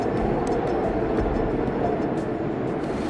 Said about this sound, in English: That sounds like a helicopter.